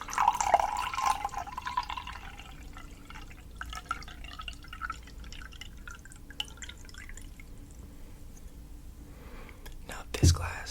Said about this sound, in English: So we'll pour water from this glass into this glass by tilting it slightly like so.